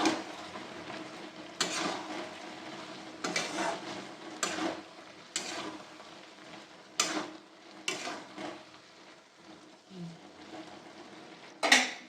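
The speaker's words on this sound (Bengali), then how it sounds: "একটু নেড়ে দেবো।" Small mourola fish and eggplant curry are stirred in a pan: intermittent scraping strokes against the pan come at irregular intervals over a soft, steady sizzle, close by and with no talking.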